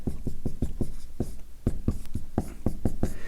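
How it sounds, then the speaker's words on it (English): Pen or marker writing out a math derivation, producing a rapid series of short, close scratchy strokes and taps in an uneven rhythm, with no talking. "let me write it out"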